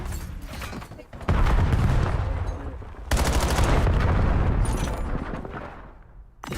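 Call of Duty: Black Ops gunfire in a college esports match: dense, loud bursts of automatic fire trade back and forth, with a brief lull before a second heavy volley that gradually tapers off.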